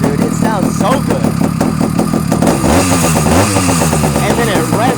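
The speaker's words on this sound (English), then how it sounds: "And then it revs so high." Bajaj Avenger motorcycle engine idling loudly up close, then revving up sharply partway through with a rising whine before easing back, while someone talks over it.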